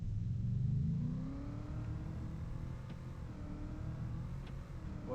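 An old truck engine idles with a steady low rumble close by, swelling slightly in the first second before settling into an even running drone.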